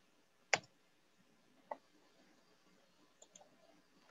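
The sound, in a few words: computer mouse double-clicking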